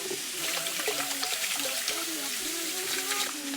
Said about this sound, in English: I'm gonna go ahead and start washing my rice